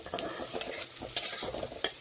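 Spices or dal tempering frying in a pan for a home cooked tarka, a steady close sizzle broken by several sharp stirring scrapes, with no talking.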